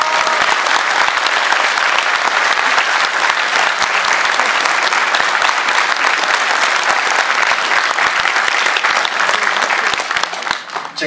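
Audience at a church Passion play performance breaks into loud, sustained applause, dense and even for about ten seconds before tapering off at the end.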